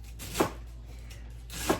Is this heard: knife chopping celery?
yes